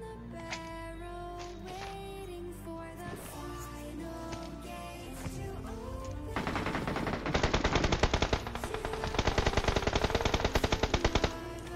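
Automatic gunfire in a battle royale video game rattles out in dense, rapid bursts, louder in the second half, after quieter in-game tones and music.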